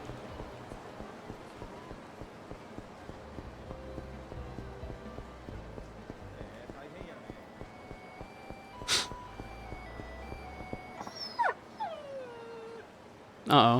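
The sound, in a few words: puppy whimpering in the video game Yakuza 5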